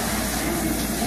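Water pours steadily from a shower or tap indoors, a close, continuous broadband rush with no break and no voices.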